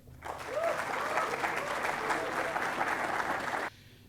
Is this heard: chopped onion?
no